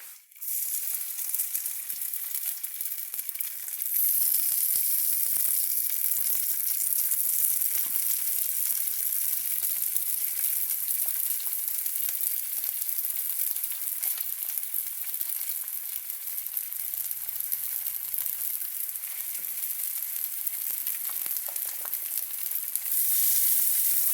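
Mozzarella-stuffed meatballs fry in a pan over medium-high heat, giving a steady, loud, crackling sizzle that runs without a break from start to finish.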